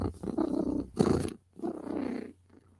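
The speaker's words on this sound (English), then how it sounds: "I'm a happy girl when I'm purring." A female cat purrs close up in slow, rhythmic cycles, each breath-driven rumble swelling and fading, with a brief breathy burst between phases.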